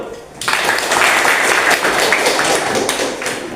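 Classroom students clap together after a civics lesson on tolerance, a dense burst of many small hands starting abruptly and continuing steadily at close range.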